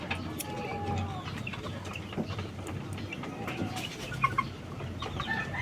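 Roosters clucking and murmuring nearby, a busy flock with scattered short calls over a steady low background.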